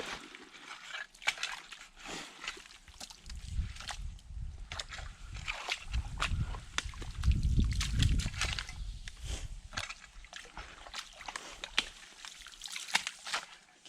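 Water sloshing and trickling as it drains through an opened beaver dam, a soft, irregular gurgle that swells in the middle and stays fairly faint throughout, with no talk.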